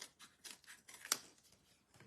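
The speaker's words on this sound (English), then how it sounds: "Now, let me get scissors" Scissors snipping through a thick adhesive sheet, a series of quick close cuts ending in one sharp, louder snip, heard alone with no talking.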